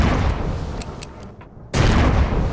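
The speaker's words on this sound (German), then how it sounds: "Oh, jetzt schieß ich mal wieder." Gunfire in the space survival game Empyrion Galactic Survival: dense, loud rapid shots fill the first second and a half, break off briefly, then resume as a sustained burst.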